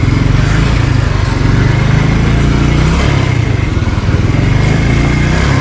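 A motorcycle engine runs close by, squeezing through a crowded, narrow street in Karachi's bullion market that is choked with parked motorcycles and handcarts; a steady, loud mid-pitched engine drone fills the scene with busy street noise behind it.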